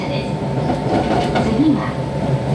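A Hokushin Kyuko subway train runs through a tunnel toward Shin-Kobe: a steady, loud rumble with rail noise from start to finish and a brief wheel squeal partway through.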